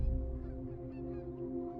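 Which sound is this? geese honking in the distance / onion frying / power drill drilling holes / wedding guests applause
geese honking in the distance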